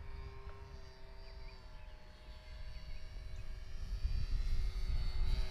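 Dancing Wings Tiger Moth 800mm balsa RC biplane with an electric motor flying outdoors in wind, a thin steady motor whine over wind rumble, faint at first and growing louder as it passes closer.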